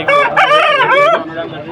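A red rooster around four kilograms crows once, loud and close, at a rooster market in Vijayawada, the call rising and falling before trailing off.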